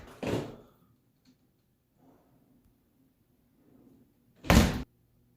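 A shower door swings shut and knocks against its frame, two sharp thuds a few seconds apart with faint handling noise between, close by and otherwise quiet.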